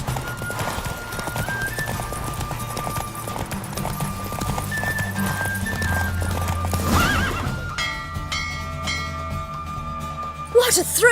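Rapid hoofbeats of a horse racing in The Witcher 3 pound steadily for several seconds and then fade away, followed by a loud whinny near the end over a musical backdrop.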